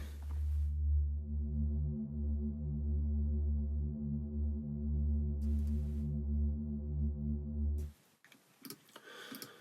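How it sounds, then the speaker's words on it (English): A deep synth bass pad in a music production drones low and sustained for about eight seconds, with faint ticking on top, then cuts off into brief clattering noise. "Okay, we've got a bass pad here."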